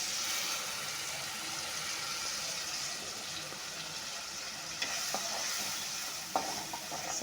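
Onions, curry leaves and fresh tomato paste sauté in a pan for a roadside-style kalan masala, with a steady soft sizzle and occasional light stirring clicks, no voices.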